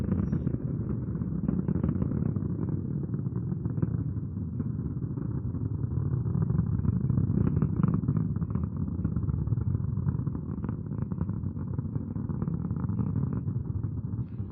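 Proton-M rocket first stage engines about a minute into launch, a continuous deep rumbling roar with crackling texture, heard distant and steady throughout.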